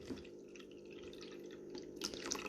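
Water drips and trickles from a small serenity tabletop water fountain indoors, a soft steady patter with a few brighter splashes near the end, close and fairly quiet.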